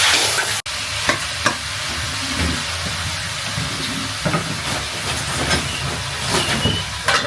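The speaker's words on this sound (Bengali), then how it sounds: "এখন শাকটা সুন্দর করে একটু ভাজা ভাজা করবো।" Malabar spinach stir-frying in an oiled pan gives a steady close sizzle and hiss, with intermittent stirring scrapes and clatter throughout.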